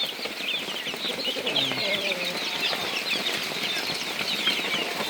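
Laying hens in a backyard flock cluck steadily over a dense, busy bed of farmyard noise, with some wing flapping and a brief low call in the middle.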